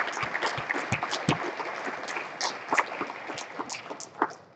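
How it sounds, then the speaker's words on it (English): Audience applause at the 2024 IGRA Convention: a fairly quiet room of many hands clapping, with individual sharp claps standing out from the steady patter for several seconds. "just a big hand of applause to those guys for everything that they did and will do"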